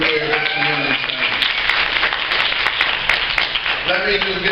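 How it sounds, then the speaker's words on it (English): An audience at a banquet fundraiser in a Los Angeles community center gives steady, continuous applause, with some voices mixed in under the clapping. "One more round of applause for John Silver, you guys"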